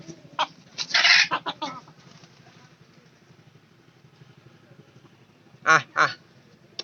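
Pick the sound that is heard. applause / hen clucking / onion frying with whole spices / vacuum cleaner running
hen clucking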